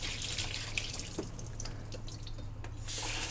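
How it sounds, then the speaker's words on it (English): Cleaning solution is poured out of a HoMedics warm and cool mist ultrasonic humidifier with a steady splashing trickle and scattered drips close by, then a brighter rush of water near the end. "After brushing, just dump out the solution."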